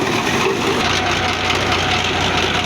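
A 2023 Massey Ferguson 385 tractor engine idles close by, a steady low rumble with a broad, even roar and no breaks throughout.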